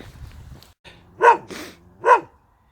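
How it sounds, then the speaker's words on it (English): A dog in a park at night barks twice, about a second apart, loud and close, with quieter rustling and low background noise between the barks. "I'm just literally walking past and it's barking at me."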